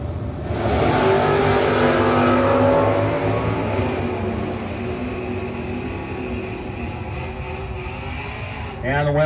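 Drag race cars, a 1974 Nova and a white Camaro, roar down the strip at a no-box 660 shootout, the loud engine blast swelling and fading into the distance under an announcer's voice.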